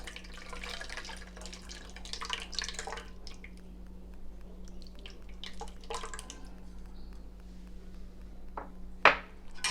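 Tamarind juice trickles and drips into homemade tomato puree in a kitchen, soft watery splashes running steadily over several seconds with a sharper clink near the end, no talking.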